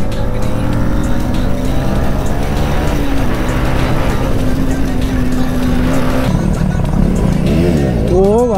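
A KTM Duke 250 motorcycle is ridden at full power, and its engine drones loud and close with a steady, rising pitch over continuous wind rush, with revs shifting near the end.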